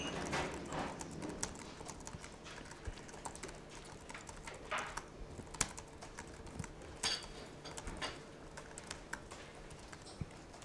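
Computer keyboard typing while writing code, scattered irregular keystrokes and short bursts of clicks, quiet and somewhat distant, over a faint background hum.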